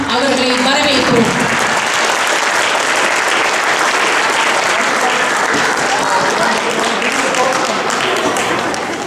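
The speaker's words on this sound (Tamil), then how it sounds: "பலத்த கரகோஷம் எழுப்பி அவர்களை வரவேற்போம்" Loud, sustained applause from an audience welcoming volunteers at a Pongal festival celebration, dense clapping filling the whole stretch with a brief voice near the start.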